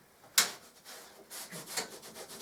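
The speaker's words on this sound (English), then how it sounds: "wipe off any excess paste" Cloth wiping excess wallpaper paste off a freshly papered ceiling, giving soft rubbing swipes after one sharper brush, faint and close, with no talk.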